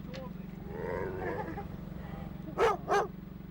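Dogs wary of strangers give two short, separate barks near the end, following muffled human talk and a constant low hum.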